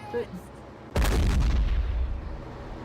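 Artillery shell fire in the World War II strategy game Men of War: one loud, booming blast breaks out after a brief quiet and then rumbles and decays over the following two seconds, with no talk over it.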